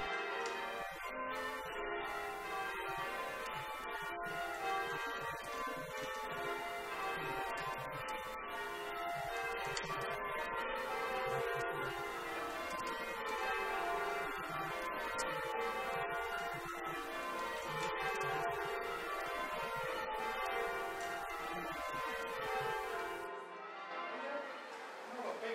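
Church bells at St Mary's Church, Fratton, Portsmouth, ring continuously in overlapping peals during a bell-ringing practice, fairly soft and steady before stopping abruptly.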